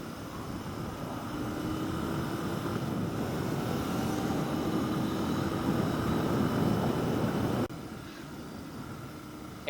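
A Royal Enfield 650 GT motorcycle ridden at a vintage motorcycle event, giving a steady loud engine drone with wind rush and faint rising tonal whine, dropping suddenly in level near the end.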